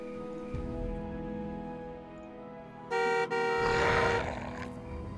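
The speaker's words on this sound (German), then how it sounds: "Vielleicht hupen?" A car horn honks in the video game Jurassic Park: The Game, one brief loud blast with a tiny break, then a rumbling roar swells over a steady droning ambient background.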